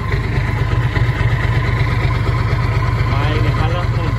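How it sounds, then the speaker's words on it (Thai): A Hino 344 truck fitted with a loud aftermarket muffler idles close by, its exhaust giving a steady, deep, throbbing rumble that stays even and unbroken throughout. "รถจะให้ดังเพาะนี่ต้องใส่หม้อก๋วยเตี๋ยวนะครับ"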